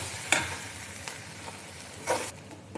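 Garlic, coriander and cumin sizzle in a pan on a gas stove, with a few sharp stirring scrapes and clinks breaking through a low, steady frying hiss, fairly close and with no talking.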